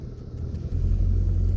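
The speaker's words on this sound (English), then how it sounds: "There goes a Geo Metro." A Geo Metro car passes close by, its low engine rumble swelling and then holding steady and loud, with no talking.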